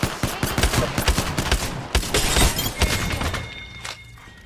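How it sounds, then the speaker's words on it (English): Rapid bursts of shotgun fire from a video game crackle in a dense, overlapping cluster, loud and close, then thin out toward the end. "These shotguns."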